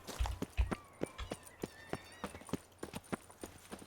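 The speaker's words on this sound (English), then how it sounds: "I like riding my horse, I guess." Horse hooves in The Witcher 3 video game clip-clop in a steady trotting rhythm, close and clear, with game ambience behind and no talking.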